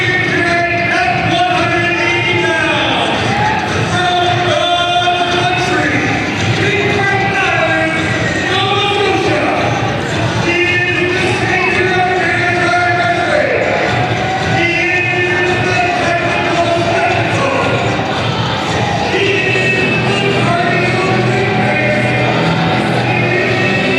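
A boxing-match crowd in Cobourg murmurs and cheers in a steady dense wash under continuous close commentary from announcers talking throughout.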